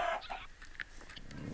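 Chickens in the Minecraft video game cluck in short, scattered bursts, faint and fairly steady, with no talking.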